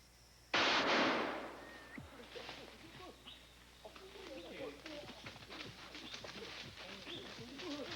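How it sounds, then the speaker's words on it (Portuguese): Curassow (mutum) calling in the Xingu forest of Brazil, its call heard among other birds and insects after a loud sudden burst near the start, with busy forest ambience throughout. "É um mutum."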